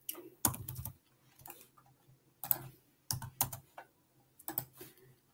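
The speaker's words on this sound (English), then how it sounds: "just start typing in the blank" Bursts of typing on a computer keyboard, quick clusters of close key clicks separated by short pauses, fairly quiet and with no voice over them.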